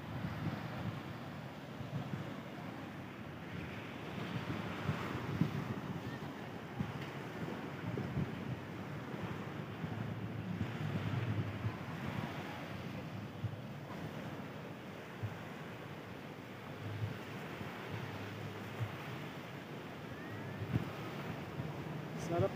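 Waves washing ashore at Patar Beach at sunset: a steady, continuous surf roar with wind buffeting the microphone throughout.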